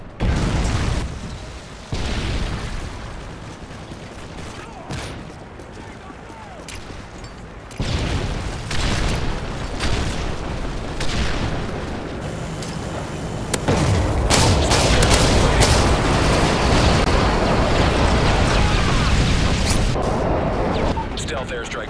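Predator missile explosions in Modern Warfare 3 crash in as heavy booms and bursts amid battle noise, layered under repeated radio-style announcer voices.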